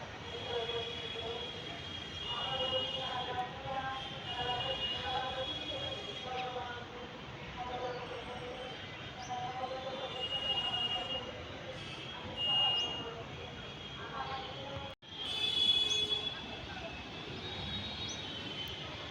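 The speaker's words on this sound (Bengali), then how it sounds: "ওই যে 1 নম্বরের ট্রেনটা এসে দাঁড়াবে" A Diamond Harbour–Sealdah local train pulls into platform 1, a steady distant rumble of wheels and carriages rolling in for the whole stretch, with faint background voices and a brief sharp break near the end.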